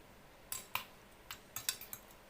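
A spoon scrapes and clinks against a pan while stirring chicken masala, a handful of sharp metallic knocks spaced irregularly over a quiet background, fairly close and alone.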